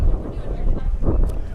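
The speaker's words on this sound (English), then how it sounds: "Too bad it's windy." Wind gusting across an open Iowa farm field near a CREP wetland, a steady low rushing buffet against the microphone that swells and eases, loud and close throughout.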